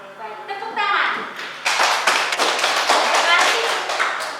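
Children's voices give way to a classroom of students clapping their hands in a lesson, a cluster of close, sharp claps that keeps going for a few seconds.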